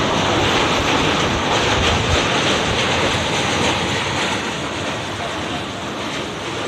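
A passenger express train rumbles loudly and continuously across a bridge over the Torsa river, with a dense roaring wash of wheel and structure noise and faint rhythmic clatter, no voices audible.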